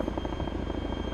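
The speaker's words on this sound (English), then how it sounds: "We are getting into the helicopter, which is inside this massive government compound." A helicopter in the military video game ArmA 3, waiting inside a large government compound, gives a steady, loud rotor drone with a regular chopping pulse that runs throughout without pause.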